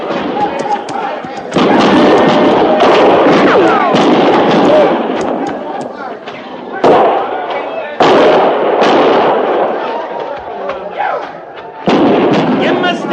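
Battle gunfire in a radio drama set at Fort Laramie: repeated loud cracks and booming volleys roll continuously, mixed with shouting voices.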